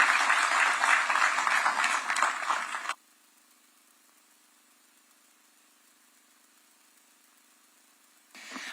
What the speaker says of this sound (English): Another round of applause for His Excellency, the President of this great nation, Dr. William Samoei Ruto.